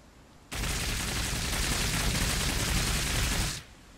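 Sustained gunfire in Cepheus Protocol: a dense, loud three-second burst of rapid shots that starts abruptly and cuts off sharply.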